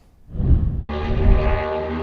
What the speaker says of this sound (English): Cup Series champion Kyle Larson were speeding around Chicagoland Speedway doing tire testing